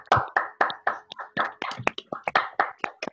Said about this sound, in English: All right, so another round of applause for her,